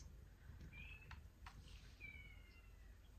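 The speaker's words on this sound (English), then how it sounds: "Kitty." Cat meows from a Sims 4 game, two short thin calls a second or so apart, faint against a low background hum.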